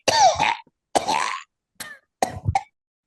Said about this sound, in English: Oh, I didn't even realize he was coughing.